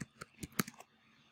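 Keys tapped on a computer keyboard, a short burst of about six quick, close clicks in uneven rhythm, followed by quiet, with no talk.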